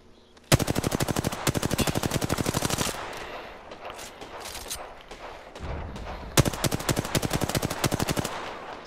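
Two long bursts of rapid automatic gunfire ring out in a video game, each a dense rhythmic run of loud close shots separated by a stretch of quieter distant firing and rumble.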